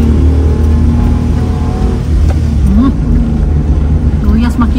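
A car engine drones loudly and steadily as it climbs a hill, with the pitch wavering under load while passengers talk over the hum.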